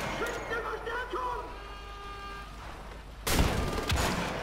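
Gunfire in the shooter game Wolfenstein: The Old Blood, with bursts of machine gun fire; after a stretch of game music and voices, loud broadband shots break in near the end.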